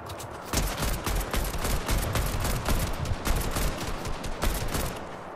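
AK-47 gunfire in the video game Fortnite, a rapid run of loud, close shots in quick bursts lasting several seconds.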